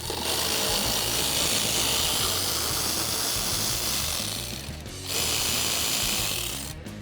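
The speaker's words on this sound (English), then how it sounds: "remove the two 8mm screws that are holding in the front part of our inner liner here" A ratchet backs out 8mm screws from the front inner fender liner of a Jeep Wrangler JL, a continuous fast clicking of the pawl, close and steady, pausing briefly before resuming.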